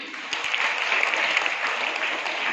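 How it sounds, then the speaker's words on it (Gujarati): Loud, sustained applause fills the room for a magic trick with a ribbon, a dense crowd clapping steadily throughout with no pauses. "જોરદાર તાળીઓ"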